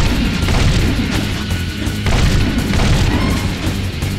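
Scatter gun blasts from a video game fight against ghost crews pound continuously, with heavy booming and crashing impacts in a loud, dense barrage and no talk.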